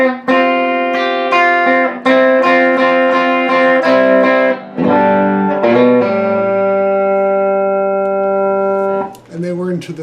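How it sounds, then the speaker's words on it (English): Distorted electric guitar plays the bridge lead of a song, sustained bright notes with effects, loud and continuous, ending with a short burst of strumming. "Third measure, the bridge lead will sound like this."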